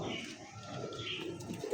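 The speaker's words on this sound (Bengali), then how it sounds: "দুইটাই নর রেসার কবুতর ভাই" Two male racer pigeons coo steadily at close range, a soft continuous warbling throat sound with faint background noise.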